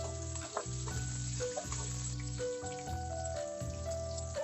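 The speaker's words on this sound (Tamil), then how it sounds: "வெங்காயம் நல்லா பொன்னிறமா வணங்கட்டும் ஃப்ளேவருக்காக அது கூட நம்ம ரெண்டு பச்சை மிளகாயை சேர்த்துக்குவோம்" Onions and green chillies fry in a pan for a Tamil-style fish curry, giving a soft, continuous sizzle with faint scraping and stirring clicks, quiet and close, with no talk over it.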